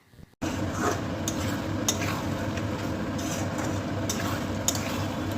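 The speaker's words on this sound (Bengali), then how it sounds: "গ্যাসের ফ্লেমটাকে একদম লোতে রেখে খুব ভালো করে চিকেনটাকে কষিয়ে নিতে হবে মশলার সঙ্গে।" Chicken cooking with spices in a pan over a low flame gives a dense, steady sizzle that starts abruptly, with occasional soft clicks and scrapes of stirring.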